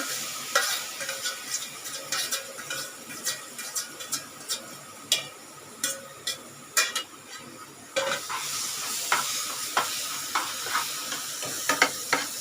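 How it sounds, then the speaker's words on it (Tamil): Banana sautéed in a pan for rava sweet gives a steady soft sizzle, with repeated sharp clicks and scrapes as a spoon stirs it against the pan, close and with no talking. "இப்போ இந்த வாழைப்பழத்தை இதில் போட்டு நல்லா வதக்கலாங்க"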